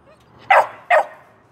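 Two loud, close barks from an American Staffordshire Terrier, a male, spaced about half a second apart, with quiet background between them.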